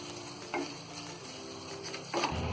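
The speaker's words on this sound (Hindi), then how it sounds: "सारी चीजों को अच्छी तरह मिक्स कर लेंगे" Dry spices, yogurt and fried onion being mixed together in a pan for potato dum biryani, with a soft continuous stir and faint sizzle, broken by two louder scraping swirls near the start and end.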